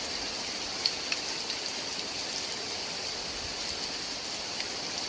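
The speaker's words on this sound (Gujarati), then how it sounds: "વરસાદ કેટલો જોરથી પડી રહ્યો છે" Steady, dense heavy rain hissing down without a break at Moti Kathechi, with a few louder drops ticking nearby; no voices.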